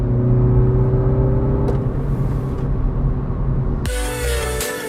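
Engine of a 2018 Mini Cooper S heard from inside the cabin while accelerating, a low droning rumble that climbs in pitch, with a shift in tone toward the end.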